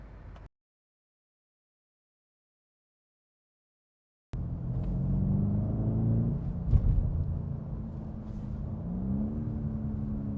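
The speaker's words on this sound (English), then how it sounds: "Burble, burble, burble. Burble, burble, burble, burble." A 2019 BMW M850i's exhaust burbles in traffic: after a brief dropout of silence, a low, rumbling engine drone comes in and holds steady, rising slightly in pitch near the end.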